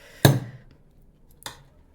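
A spoon scrapes against a cooking pot while scooping khichuri, giving two short, distinct clinks about a second apart, close and fairly loud against a quiet background.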